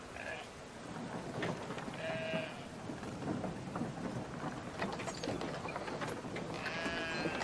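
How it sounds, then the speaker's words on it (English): Sheep bleating in the video game Brothers: A Tale of Two Sons, a few short bleats over a steady bed of rain and rumbling thunder, with someone talking at times. "Let's put this big fucking heavy sheep in."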